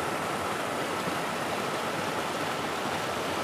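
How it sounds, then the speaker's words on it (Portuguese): Waterfall at Missão Velha, Ceará, in the Brazilian backcountry, a constant dense roar of falling water, loud and unbroken, with no voices. "Trazendo para você essas imagens aqui da cachoeira de Missão Velha"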